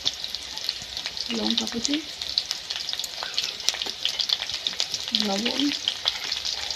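Bitter gourd with chopped onion frying in a pan, a continuous bright sizzle with occasional scraping stirs, while someone speaks briefly over it.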